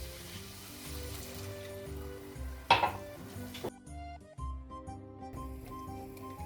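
Hot water poured into tomato paste and garlic frying in a pan for a minced meat, carrot and cauliflower stew gives a brief, loud hissing burst midway, over steady background music.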